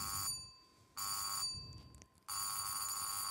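A phone notification: a bright, bell-like electronic chime in three short bursts separated by brief gaps, clear and close, with no voices.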